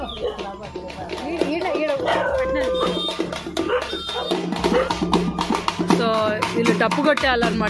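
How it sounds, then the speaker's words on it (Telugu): Dogs bark and yip excitedly during a Sankranti festival at home, sharp repeated calls mixed with close talk and background commotion. "ఈ కుక్కలు అరుస్తున్నాయి"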